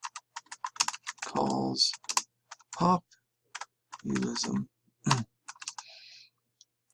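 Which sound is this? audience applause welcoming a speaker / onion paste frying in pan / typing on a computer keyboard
typing on a computer keyboard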